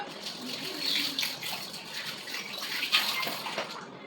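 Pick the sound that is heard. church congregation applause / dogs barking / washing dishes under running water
washing dishes under running water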